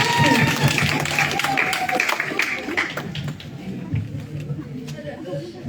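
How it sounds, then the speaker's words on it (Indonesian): An audience at a student election candidate dialogue applauds, with clapping loudest at first and gradually thinning out, mixed with crowd chatter and a voice over it. "Mari kita berikan tepuk tangan yang meriah untuk kandidat nomor"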